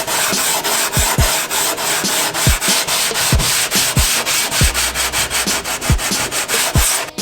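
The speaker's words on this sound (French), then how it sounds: "encore un petit peu de ponçage." A mould for an F1-style kart body shell is sanded by hand with quick, rhythmic back-and-forth rasping strokes, loud and close, with no talking.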